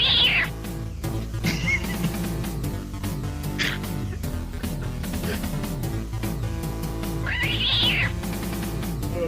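A cat meows several times, with loud rising cries at the start, in the middle and near the end. The cries sit over a steady, busy musical backdrop, and no one speaks.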